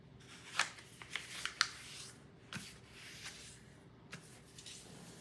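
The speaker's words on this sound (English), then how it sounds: "First, we're going to fold it in half," A sheet of paper is folded in half for a paper airplane, giving soft crinkles and several sharp crisp rustles and creases, close and quiet.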